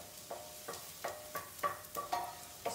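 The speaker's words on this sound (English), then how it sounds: "See the stirring." Onions cooking in a pan for mushroom risotto, stirred in a steady rhythm: about seven soft scraping, sizzling strokes spaced roughly evenly, fairly quiet and close with no talking.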